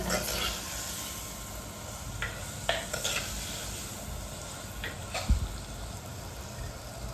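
Garlic-laced chilli crisps in hot oil in a village kitchen, a quiet steady sizzle dotted with sharp clicks of a spoon against the pan and one heavier knock near the end.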